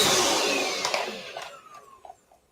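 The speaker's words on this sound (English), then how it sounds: "sorry about the vacuum noise" A vacuum cleaner running indoors roars loudly at first, then its motor whine winds down and fades over a couple of seconds, with a few soft knocks as it stops.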